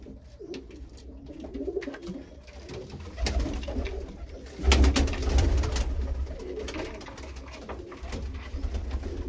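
Pigeons kept as a hobby coo in low, throaty bursts that swell and fade through the whole stretch, close by, with soft rustling and faint chirps in the background.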